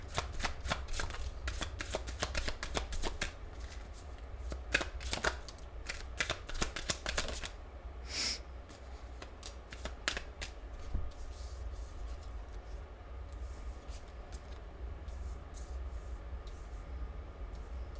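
A deck of playing cards is shuffled up close, with quick riffling bursts and sharp snaps packed into the first several seconds, then a few sparse clicks and a faint hiss for the rest.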